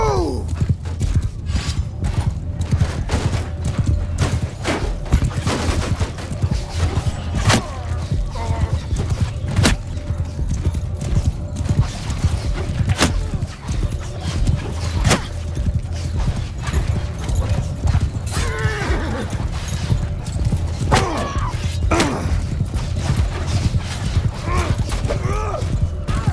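Cavalry horses move in a Bannerlord battle in the snow, giving a dense, continuous clatter of hooves with occasional whinnies and mechanical clanks, and voices briefly call out over the din.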